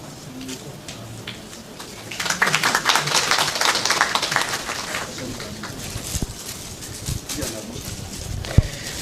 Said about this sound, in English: And maybe we can encourage with some clapping whilst that is being done